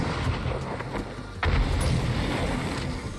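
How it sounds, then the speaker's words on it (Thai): Explosion in the survival game 7 Days to Die, a muffled low boom swelling partway through over a steady rumbling game background, fairly subdued rather than sharp. "เนี่ยระเบิดดูไม่แรงอ่ะ"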